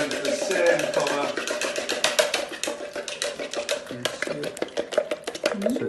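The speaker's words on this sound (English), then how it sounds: "I'm going to whisk my eggs until they all turn to the same colour" Eggs for an omelette are whisked briskly in a bowl, producing a rapid, steady stream of close tapping and clicking strokes that continues without pause.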